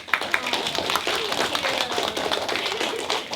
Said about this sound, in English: Give your teacher a big round of applause.